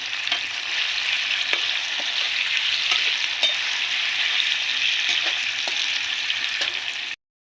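Paneer fries in a pan with a loud, continuous sizzle and occasional light taps, then stops abruptly.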